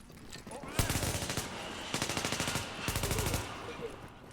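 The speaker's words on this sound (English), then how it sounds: "this thing is 40 rounds in a clip. Oh, it's semi-automatic. I have a sniper rifle." Semi-automatic sniper rifle firing in a video game, a 40-round weapon, loosing three quick bursts of rapid, evenly spaced shots, each lasting about half a second, loud and close.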